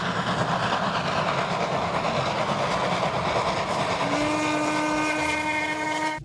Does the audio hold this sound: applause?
no